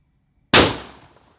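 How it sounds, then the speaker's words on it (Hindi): A paper bomb firecracker set off during Diwali cracker testing explodes in a single sharp, loud bang after near silence, its crackling noise trailing off over about a second. "बहुत ही धमाकेदार था ये वाला पटाखा"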